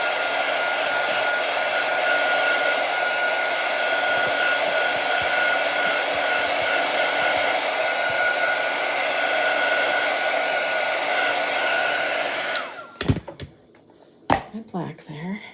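A hair dryer blows loud and steady on chalk paste spread on a farmhouse tray, then cuts off near the end, leaving brief handling knocks. A voice speaks under the drone.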